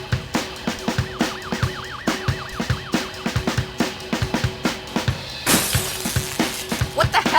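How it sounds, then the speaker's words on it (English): A car smashes into a barricade in the video game Bully, with repeated loud shattering and breaking impacts, a police siren wailing underneath, and a heavier crash burst near the end. "Smashing into our barricade like that?"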